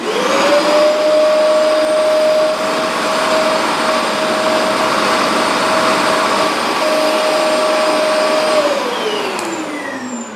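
A Hoover MaxExtract 60 PressurePro carpet cleaner works on a mat, its loud motor holding a steady high whine for about nine seconds, then winding down in pitch as it switches off.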